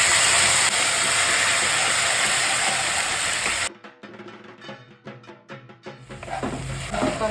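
Kasuri methi frying in oil in a pan, a loud continuous sizzle and hiss that stops abruptly partway, followed by quieter clinks and stirring knocks as the sizzle returns.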